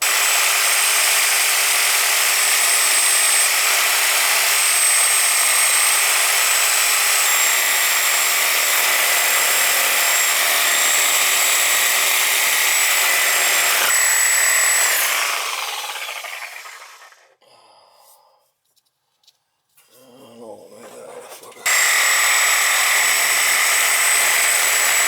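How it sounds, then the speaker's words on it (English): A sawzall cuts through old copper and cast iron pipe in an older two-family house, grinding loudly and continuously for about fifteen seconds, then fading out to near silence before starting up again. "I'm gonna try to cut it. I think I can do it. The sawzall."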